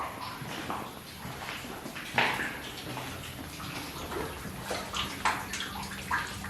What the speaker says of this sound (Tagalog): Ang tulo.